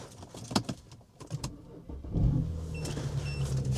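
A crashed BMW 335i sits idling at close range, its engine catching and running after a few clicks and clunks, then settling into a steady low hum.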